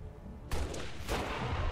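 A single loud gunshot burst from a rifle in XCOM 2 with a Halo Reach mod, cracking in sharply after a short quiet lead-in and ringing on in a dense, sustained wash of noise.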